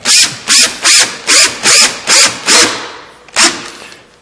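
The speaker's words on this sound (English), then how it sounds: "when my drill flips, I'm more than tight, so I will stop before we strip the screw out" A power drill driving a screw into wood for a face frame whirs in eight short, evenly spaced bursts, each pulse driving with a grinding, ratcheting edge, with a brief pause before the last.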